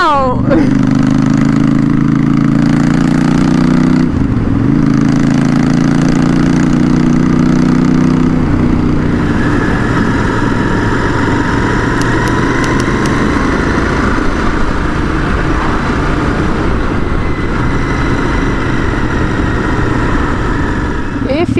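Royal Enfield Interceptor 650 custom motorcycle engine running throughout while riding, a steady loud twin-cylinder drone with pitch shifts as it revs and changes speed, close and continuous with no talk.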